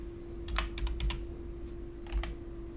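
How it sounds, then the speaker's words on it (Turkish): Quick bursts of key presses on a computer keyboard as a code is entered in the video game Amber Alert, two short clusters of clacking taps over a steady low hum, no talk. "Şimdi bilgisayara 751 gireceğim."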